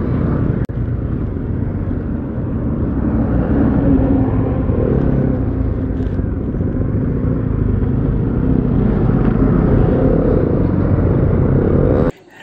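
A Bajaj Pulsar NS200 (2018) and a KTM Duke 200 race along a highway, their engines a loud, continuous roar for several seconds that cuts off abruptly near the end.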